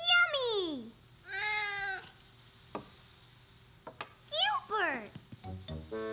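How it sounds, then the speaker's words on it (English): A cartoon cat gives several drawn-out, sliding meows, loud and close, in a kitchen with sizzling, frying pancakes in the background. "Silly cat."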